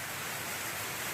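Heavy rain from an approaching typhoon pours down steadily around a farm yard, a dense, even hiss filling the space with no pauses or voices.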